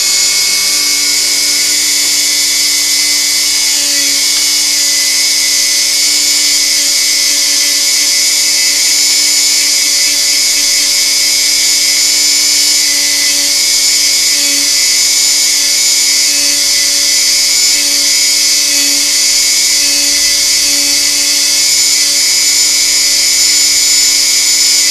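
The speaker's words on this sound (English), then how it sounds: "this inside part right here, I have found polishes up quicker and better with the wheel" Dremel rotary tool spinning a polishing wheel against a small part from a Singer 404 sewing machine, a steady loud high whine with faint fluctuations as the part is worked, continuous and close, no talking.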